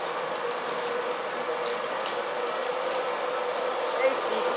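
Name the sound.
VTEC Class 91 train at Newark North Gate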